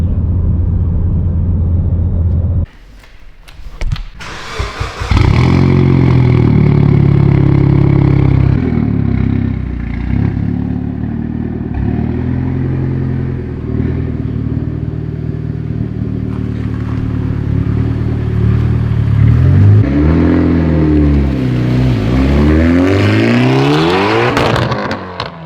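A Mitsubishi Evo X with a straight-pipe exhaust revs hard and loud, its raw engine note climbing and falling in repeated throttle blips after a brief lull, with crackling roughness as the revs sweep up near the end.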